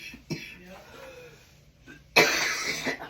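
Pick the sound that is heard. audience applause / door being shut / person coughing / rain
person coughing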